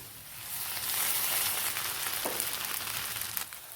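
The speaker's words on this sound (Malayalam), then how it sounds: "ഇതിലേക്കൊരു 1/2 ടീസ്പൂൺ വെളുത്തുള്ളിയുടെ ഇഞ്ചിയുടെയും പേസ്റ്റ് ഇട്ടൊന്ന് വഴറ്റി" Potato and meat sauté with ginger-garlic paste in a pan, giving a soft, continuous close-up sizzle with a brief stirring scrape midway and no talking.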